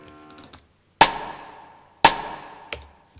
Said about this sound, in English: And this one is sort of like the side stick, right?